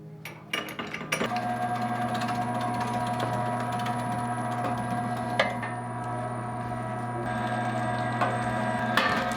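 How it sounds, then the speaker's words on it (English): An electric meat grinder grinding beef and short ribs on a homestead starts up after a few knocks and then runs with a loud, steady motor hum and whine, its pitch shifting slightly as the meat feeds through. "So we're gonna start grinding."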